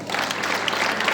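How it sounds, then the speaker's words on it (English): Students at a school assembly clapping in unison, a brief burst of dense, steady hand claps from a group, fairly loud and close, with no voices over it. "Clap together."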